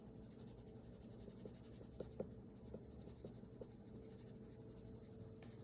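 Soft scratchy strokes of a charcoal pencil moving across paper, drawn with the side of the pencil, steady and quiet, with a few faint taps along the way.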